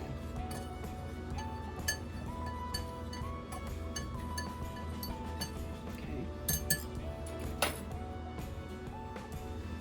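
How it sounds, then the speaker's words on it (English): A whisk clinks repeatedly against a bowl while butter is stirred around for hot water cornbread, a steady run of small metallic taps close by over a constant low kitchen hum. "Now we're gonna like whisk this around. Just whisk around that butter."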